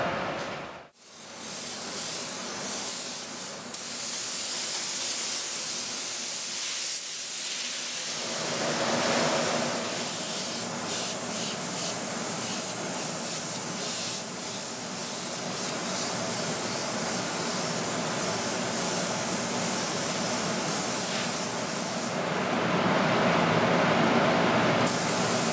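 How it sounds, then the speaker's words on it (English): An airbrush sprays paint in a long continuous hiss that runs steadily for most of the stretch, close and fairly loud, with no talking over it. "I'm going to airbrush everything with one airbrush today"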